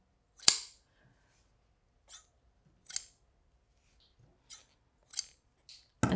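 Scissors cut wool yarn for weaving, making six crisp, separate snips spaced a second or two apart in a quiet room.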